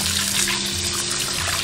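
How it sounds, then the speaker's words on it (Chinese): Tap water runs steadily over soaked dried mustard greens being rinsed in a kitchen, a close, continuous hiss of flowing water with no talking. "把泡好的芥菜干清洗一下再来切"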